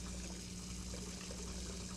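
Water being poured in, a faint, continuous trickling rush over a steady low hum, with no talk.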